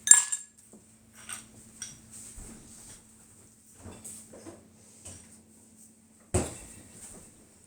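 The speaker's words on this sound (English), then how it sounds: "we're going to throw some ice cubes in there" Ice cubes drop into a glass while a drink for two is being made, giving several light clinks and knocks spread irregularly over a few seconds, with one sharper clatter near the end, all close and fairly quiet.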